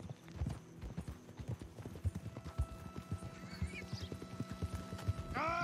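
Horse hooves clip-clop at a steady trot in Red Dead Redemption 2, a continuous even rhythm, fairly quiet, with a rising whinny near the end and faint game ambience.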